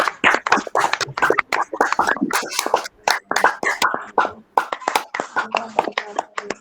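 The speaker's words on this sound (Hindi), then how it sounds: "आइए एक जोरदार ताली बजा के परमेश्वर को धन्यवाद दें।" Church fellowship congregation in Raipur clapping hands together in thanks to God, a loud, fairly rhythmic burst of hand claps close by, briefly broken by short pauses.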